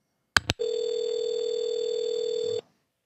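A telephone line on an outgoing call: two sharp clicks, then a steady, unbroken electronic tone holding for about two seconds before cutting off abruptly, with no talking.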